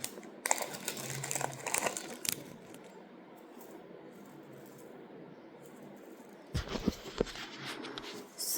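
A packet of gajra-style hair flowers bought from a handloom shop is opened by hand: close, bursty plastic crinkling and rustling at the start and again near the end, with quieter handling between.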